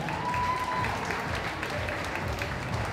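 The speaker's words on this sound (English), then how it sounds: "We give another round of applause" Audience applause at a Brooklyn fashion show, a dense crowd clapping at moderate volume for the full stretch, with a faint murmur of voices mixed in.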